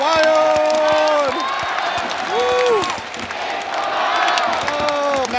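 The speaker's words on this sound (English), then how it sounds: "The crowd is going wild." A baseball stadium crowd in Japan roars, cheers and claps steadily after the closing pitcher finishes the game, with whoops and a public-address voice or voices rising above the dense, loud, continuous din.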